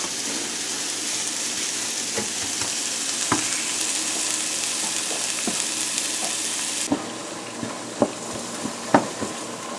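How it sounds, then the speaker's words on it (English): Risotto sautéing in a pan on a slow simmer, a continuous close sizzle with scattered clicks and scrapes of stirring, the hiss thinning in the last few seconds as spoon knocks stand out, no speech. "Saute just a little bit more."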